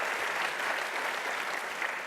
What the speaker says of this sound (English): And we should clap for that,